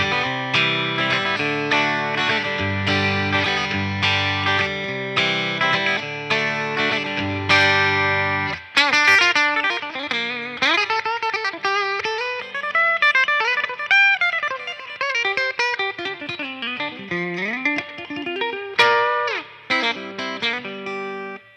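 Electric guitar with split humbucker pickups, inner coils in series, played through effects with distortion, chorus and reverb: sustained chords for about eight seconds, then lead lines with bends and slides, loud and alone.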